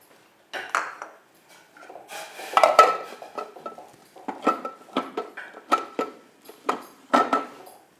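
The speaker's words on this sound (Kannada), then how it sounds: "ಈಗ ಇದನ್ನ ನೀರಲ್ಲಿ ಹಾಕಿ ಮಿಕ್ಸ್ ಮಾಡಬೇಕು ಓಕೆ ಆ ಕುದಿತಾ ಇರೋ ನೀರಲ್ಲಿ ನೀರಲ್ಲಿ ಮಿಕ್ಸ್ ಮಾಡಿ" A spoon stirs an arka millet mixture in a metal pot of boiling water, giving repeated close clinks and scrapes against the pot in an uneven rhythm.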